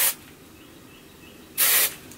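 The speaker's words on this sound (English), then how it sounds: "for these little spiky pieces, I take hairspray, I spray them" Two short, close bursts of hairspray misted over a sleek, spiky 90s-style hair bun, one at the start and a slightly longer one near the end, with quiet room tone between and no talking.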